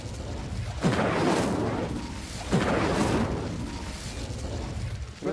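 Spell effects from the video game Hogwarts Legacy, with an Incendio fire spell among them: two loud, broadband whooshing bursts about two seconds apart, each flaring up sharply and then rolling on as a dense roar.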